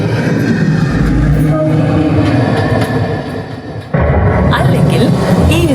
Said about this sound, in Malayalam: ഈ ട്രെയിൻ പോലെ.